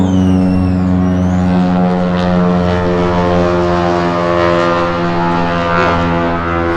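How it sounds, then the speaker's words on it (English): A loud propeller plane flies over the Guatemalan rainforest, its steady droning engine hum with strong harmonic tones filling the whole stretch, no voices. "loud plane,"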